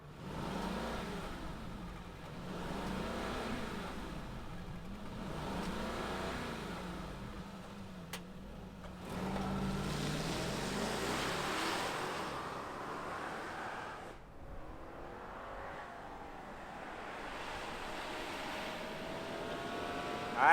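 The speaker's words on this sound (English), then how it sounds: "let's fire it up and hear if it makes any sound." A 2022 Mercedes-Benz S580 full-size luxury sedan engine runs as a steady, moderately loud hum, with its character shifting around the middle and again near the end.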